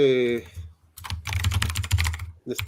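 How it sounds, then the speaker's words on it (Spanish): Rapid typing on a computer keyboard in a dense run of clicks. A voice is heard briefly at the start, then a short pause, then more bursts of keystrokes toward the end. "perdón, voy a escribir por teclado rápido."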